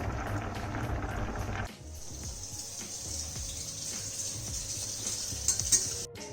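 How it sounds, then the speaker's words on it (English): Butter melting in a pan for mac and cheese, a faint soft sizzle with light whisking scrapes, quiet and close, with a short burst of louder clatter at the start. "The butter is melting. You can whisk it a bit to help it melt."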